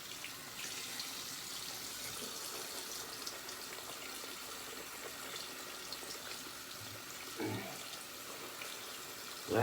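A tap runs steadily while shave soap is lathered with added water, a constant moderate hiss of flowing water at a sink with a brief splash or knock near the end.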